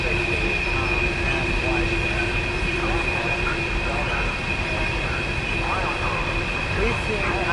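A train rumbles steadily past on the rail line, a loud continuous roar with a sustained high whine throughout, and people talk faintly underneath.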